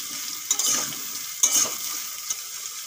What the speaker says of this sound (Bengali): এখন দিয়ে দেবো কেটে ধুয়ে রাখা ঝিঙ্গা।